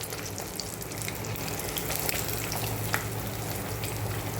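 Fish fry in oil over a low flame, giving a dense, even sizzle and crackle that holds steady the whole time, with a few sharper pops.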